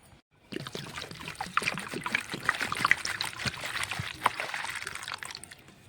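Fresh mint leaves are rinsed by hand in water, making a steady close-up sloshing and trickling that runs for several seconds without speech.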